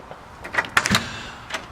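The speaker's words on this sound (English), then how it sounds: "you have a power rear lift gate" The power rear lift gate of an armored 2016 GMC Yukon Denali XL 4WD moves with a short mechanical whir, then a cluster of clicks and a latching thunk, fairly close and quiet overall.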